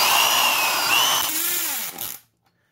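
A professional adjustable torque screwdriver runs with a loud whirring motor, then slows and winds down before cutting off into silence near the end. No speech.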